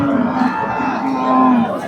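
HF crossbred calves and cattle at a livestock market, with a steady mooing call carrying over a busy crowd murmur for the whole short stretch.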